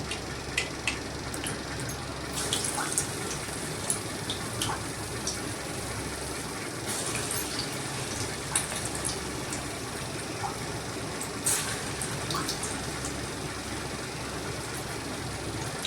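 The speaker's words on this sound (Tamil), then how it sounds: "எண்ணெய் காய்ஞ்சிருச்சு முதல்ல உளுந்து வடையை போட்டுக்கலாம்" Urad dal vadas deep-frying in hot oil, a steady broadband sizzle and crackle that runs without a break, with brief brighter spatters rising now and then.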